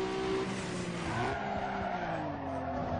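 Race car with a stage 2 turbo in Need for Speed Underground 2, engine tones rising and shifting under a squeal of skidding tires, loud and continuous.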